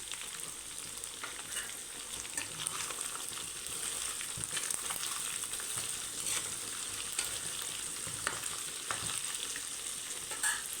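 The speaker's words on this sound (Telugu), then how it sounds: "చికెన్ అయితే వేగింది. ఇందులో కొద్దిగా పసుపు వేద్దామండి." Chicken sizzles steadily in a hot pan for a Sunday chicken fry while a spoon scrapes and stirs it now and then. The crackle is constant, close and moderately loud, with no voices.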